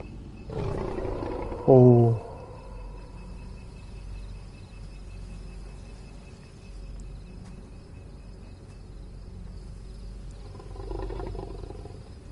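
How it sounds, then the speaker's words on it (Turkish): A wolf in the horror video game The Quarry lets out a low, rough growl near the start, over night ambience with faint crickets. A voice briefly makes a short sound. "Bir şey var, kurt var, kurt."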